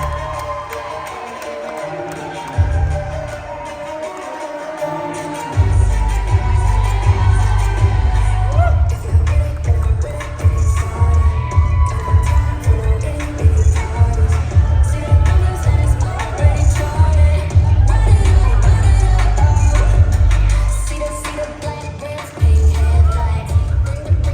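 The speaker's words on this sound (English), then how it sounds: "round of applause for Christina and Sophia" Wedding guests at a reception erupt in applause, cheers and whoops after toasts are announced, a loud sustained burst over thumping background music that swells and then fades near the end.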